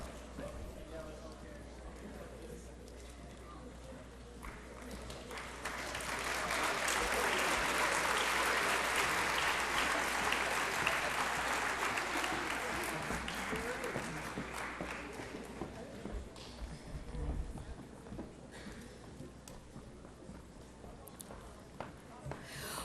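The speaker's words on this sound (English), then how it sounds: "Once again, join me in a round of applause for these students." A high school yearbook ceremony audience breaks into broad applause that swells, holds steady for several seconds, then thins out, with a murmur of the crowd beneath it.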